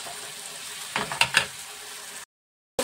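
Cauliflower pieces sizzling and frying in a hot pan for a home-style cauliflower roast, a steady close hiss with a few brief stirring scrapes near the end before sudden silence.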